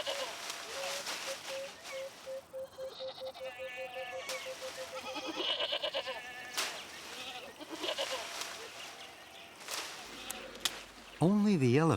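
Goats bleating in a herd kept by shepherds in elephant country, several calls overlapping at varied pitches near and far, with a voice talking over them.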